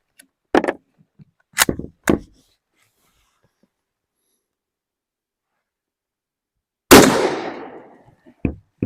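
A Yugoslavian M24/47 Mauser bolt-action rifle fires cheap Turkish surplus rounds outdoors, loud sharp cracks spaced apart: three quick shots early on, then a pause and a bigger blast with a ringing decay.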